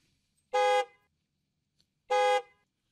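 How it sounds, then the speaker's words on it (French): Two separate car horn honks, each a loud clean toot about a third of a second long, spaced over a second apart with silence between. "on va simuler le klaxon de cette magnifique voiture"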